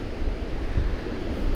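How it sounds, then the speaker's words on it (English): Rough ocean surf pounds against rocks at a coastal rock-pool site, a loud continuous rumbling wash with heavy wind buffeting the microphone and no speech. "there's so many waves smashing against the rocks"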